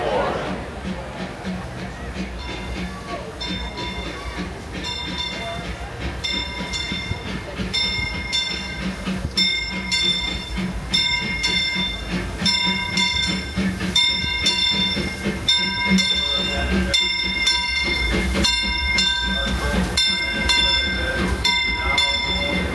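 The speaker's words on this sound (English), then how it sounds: "Three trains, and we got one coming in right now." A Disneyland Railroad train pulls into the station, its steady rumble and rail clatter rising under bustling park crowd noise and nearby talk, with bright metallic ringing tones throughout.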